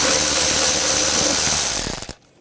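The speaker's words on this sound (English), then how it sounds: "There's a bracket right here with a 8mm. You're going to use a 8mm socket." A ratchet with an 8mm socket turns a bracket bolt on a 2004-2008 Ford F-150, a loud close run of rapid clicking that slows into a few final clicks before stopping.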